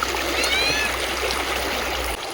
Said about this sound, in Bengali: জলটা দেখো যা মানে খুব স্পিডে যাচ্ছে